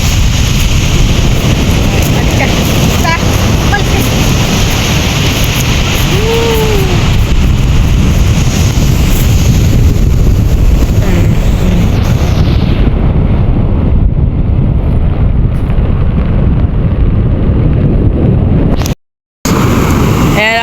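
Loud ocean waves crash and roar near the shore while strong wind buffets the microphone, a continuous surging wash that cuts out briefly near the end, with a faint voice in the background.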